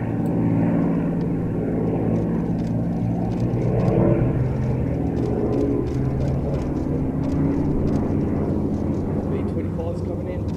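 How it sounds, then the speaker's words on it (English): A B-25 bomber, a propeller aircraft at an air show, droning steadily with a broad rumbling engine roar that swells and fades slightly, with a voice talking over it. "B-25's coming in."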